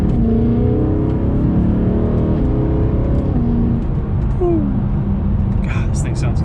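A BMW E90 M3 engine hums and revs steadily at close range, a continuous deep drone with rising pitch as it accelerates.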